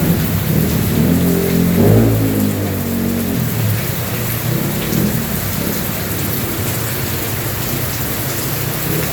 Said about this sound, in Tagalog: Pakita ko po sa inyo sa labas kung gaano kalakas ang ulan.